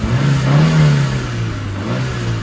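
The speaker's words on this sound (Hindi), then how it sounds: "अब देखो मैं यहाँ एक्सीलेटर दूंगा" A Maruti Eeco van's engine revs up as the accelerator is pressed while switching to CNG, a rising, swelling roar that peaks and then settles to a steady mid-pitched drone, close and loud with no talk.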